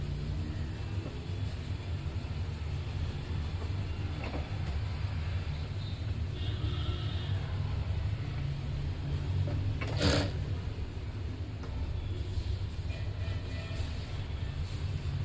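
A sewing machine runs while stitching blouse fabric, giving a steady, continuous motor hum with a low rumble and no talk, and a brief brighter burst near the end.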